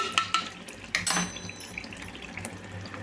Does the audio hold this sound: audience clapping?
no